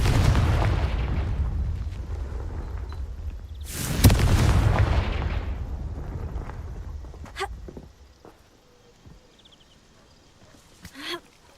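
A Confringo spell explosion in Hogwarts Legacy bursts with a deep boom and a bright crackling blast, preceded and followed by rumbling low-end and faint scattered impacts that fade to quiet.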